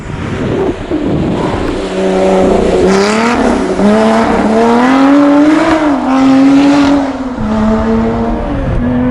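A 2017 Lotus Exige Cup 430 sports car engine revs hard and loud, pitch climbing and dropping through several gear changes, close and continuous, heard on board.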